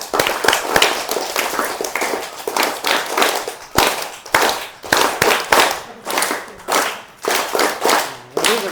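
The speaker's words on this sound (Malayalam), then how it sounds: "ഒന്ന് കൈയടിച്ച് പ്രോത്സാഹിപ്പിച്ചേ." An audience at a Guru Purnima gathering claps continuously, a dense, loud, uneven patter of many hands that rises and dips for several seconds without a pause.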